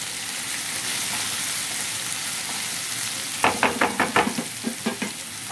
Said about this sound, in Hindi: लहसुन भी फ्राई हो जाएगा।